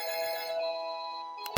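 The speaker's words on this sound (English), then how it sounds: "Sorry, that was my phone" A mobile phone ringtone plays a steady, bright multi-tone melody alone for over a second, cut off abruptly at the end.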